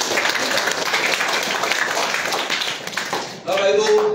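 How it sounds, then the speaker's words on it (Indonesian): A church congregation gives a dense, steady round of applause that fills the room for several seconds, then cuts off into a brief musical tone. "Beri tepuk tangan dulu yang mulia buat kita"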